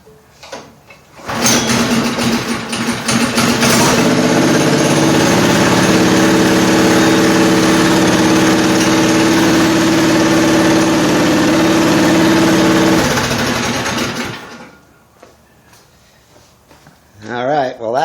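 A Monocar's small engine runs after a carburetor cleaning, air filter cleaning and new spark plug, starting up loud and close and holding a steady idling drone for about twelve seconds before cutting off.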